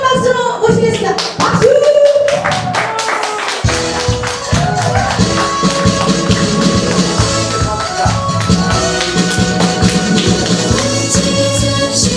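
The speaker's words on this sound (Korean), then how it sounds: "여러분들 박수 크거 부탁드리겠습니다" Loud, sustained applause from a large audience at a year-end Korean pop-song concert, dense clapping continuing steadily for several seconds.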